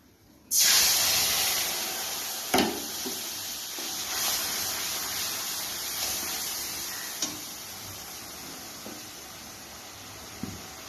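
A spice paste of cumin, coriander, ginger, chilli and turmeric mixed with water hits hot oil in a pan with a sudden loud hiss, then keeps sizzling steadily, with occasional soft ticks and pops.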